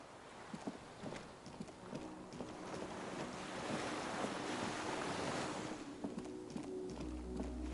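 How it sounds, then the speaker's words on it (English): Waves lap softly against a small skiff moored by a dock in the video game Disco Elysium, a quiet, continuous wash of water that swells slightly in the middle, with faint knocks and creaks and no talking. "The skiff is swaying on the waves by the dock."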